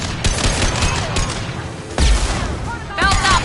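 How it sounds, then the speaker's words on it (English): Concussive shots and weapon fire burst out repeatedly in a Mass Effect 2 firefight, loud bangs in irregular bursts among battle noise, with voices shouting over the action. "Firing concussive shot."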